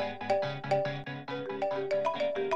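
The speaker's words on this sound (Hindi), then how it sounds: "कश्यप का फोन," A mobile phone rings in a Pakistani TV drama, playing a clear melodic ringtone of repeating, evenly spaced tones at a moderate level with no talk over it.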